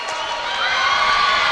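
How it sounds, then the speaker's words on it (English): Parents in a gym crowd cheer and whoop at a high school 2A state volleyball pool game, a steady broadband roar of voices swelling slightly over a couple of seconds. "finally the parents are starting to cheer"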